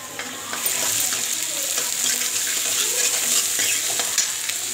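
Onions frying and sizzling in a pan in a home kitchen while a ridge gourd dish is prepared, a steady, close hiss with occasional stirring scrapes and clinks throughout.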